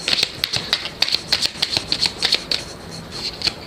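Lenormand deck cards being shuffled and drawn, rapid crisp riffling flicks and slaps in quick irregular bursts, close and fairly loud with no voices.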